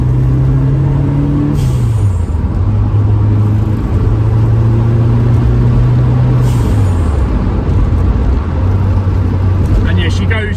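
A turbocharged Pinto engine in a Ford Cortina Mk5 pulls steadily under moderate throttle, its low drone rising and settling through several pitch shifts, heard close and continuously with no talk.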